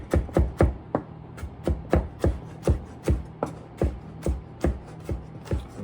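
Knife chopping fresh ingredients for pico de gallo on a cutting board, a steady run of sharp close chops about twice a second, each a crisp tap, heard alone without talk.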